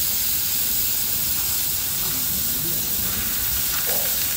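Cumin, fenugreek, vadagam and curry leaves sizzle in hot oil outdoors on an open terrace, a continuous close hiss with faint crackles and no talk.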